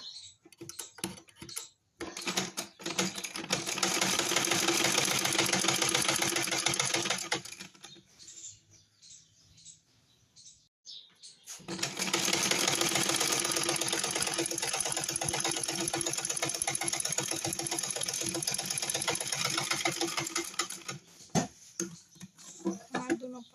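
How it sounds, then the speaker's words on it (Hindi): A sewing machine stitches trouser pieces in two long bursts of rapid, even whirring and ticking, separated by a quiet pause of a few seconds, with short irregular stops within each run. "अब हम इसकी स्टिचिंग करेंगे।"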